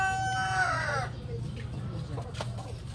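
A native rooster crows once loudly and close by, a long drawn-out cry fading after about a second, over a steady low background of farm noise and a few faint clucks.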